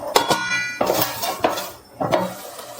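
A metal lid clinks and clatters onto a cooking pan of Samyang noodles with mozzarella and sliced cheese, four distinct close metallic knocks spaced about half a second apart.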